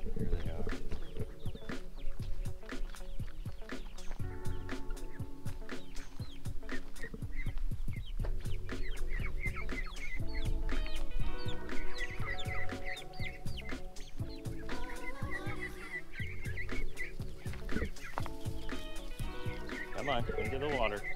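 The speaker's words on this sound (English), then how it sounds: "Look at the chickens are with them" Chickens cluck and chatter on a farm in Isaan, Thailand, over a busy, noisy outdoor background, with people talking throughout.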